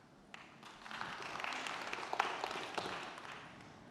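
A talk audience breaks into soft clapping that swells from near silence into a scattered, faint patter of many hands and then tapers slightly.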